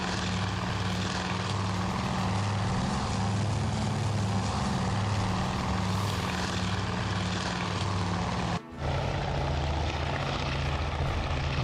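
Fighter aircraft engines drone steadily in flight in Task Force Admiral, a continuous propeller hum with a brief dropout near the end.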